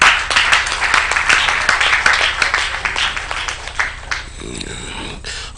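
Audience applause at a 20th anniversary awards event: dense, lively clapping from many hands that gradually thins out, with a voice speaking over it near the end.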